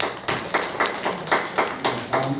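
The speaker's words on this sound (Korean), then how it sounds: "네, 다시 한 번 더 박수로." A church congregation clapping in unison during a Sunday worship service, with steady rhythmic claps roughly every quarter second, close and moderately loud with no talk.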